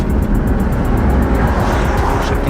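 An Infiniti G35 with no working reverse pulls onto a road and accelerates, its engine a steady, loud broadband roar throughout, close by with no talk.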